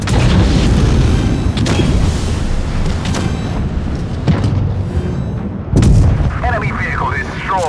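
Tank cannon fire and shell hits in World of Tanks Blitz, with a Centurion I in battle on the Hellas map: loud, continuous booming and rumbling blasts layered densely, with sharper cracks punctuating the din.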